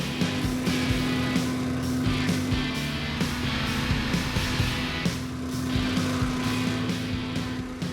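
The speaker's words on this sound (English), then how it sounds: "That big industrial fan is just making this racket" Loud, steady interior ride noise in a Jeep Sahara with the constant drone of a big industrial fan, a continuous hum with rumbling and rattling underneath.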